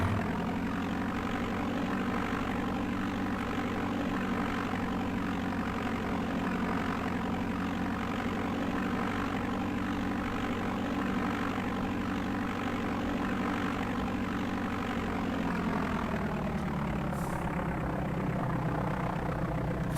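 Propeller light aircraft engine in DOS Flight Simulator 5.1, droning steadily at a low, near rumble as the plane taxis and turns onto the runway, the engine tone shifting slightly near the end.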